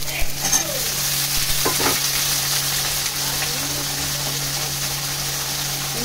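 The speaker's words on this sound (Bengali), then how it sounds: "আলুটা হালকা হয়েছে, এবার আমি বেগুনগুলোও দিয়ে দেবো।" Eggplant pieces frying with potatoes in a pan, a steady close sizzle with occasional stirring scrapes and no voices.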